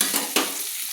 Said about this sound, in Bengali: আমি ওলগুলো একটু তেলের মধ্যে নেড়ে নিচ্ছি